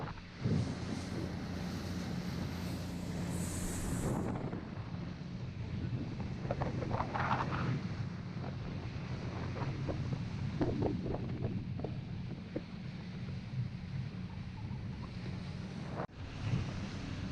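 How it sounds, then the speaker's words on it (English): Ocean swells and wind buffet a small tender boat crossing toward Elfin Cove on exposed North Pacific water in Alaska, a constant roar of wind noise and engine rumble with sloshing waves throughout. "Got some swells."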